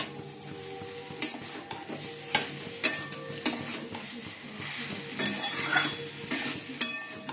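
Potatoes and cauliflower sizzle and fry in a wok while a spatula scrapes and clinks against the metal at irregular intervals, close up.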